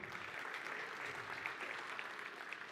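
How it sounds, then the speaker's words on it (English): An audience applauds at the Fenix 8 product launch, a dense, steady wash of clapping that holds at an even level throughout with no voices standing out. "a round of applause for all of you"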